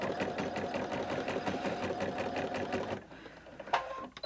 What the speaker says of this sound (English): I'm going to make it stitch at every stitch. And watch us go crazy.